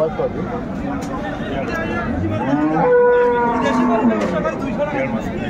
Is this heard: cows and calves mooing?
yes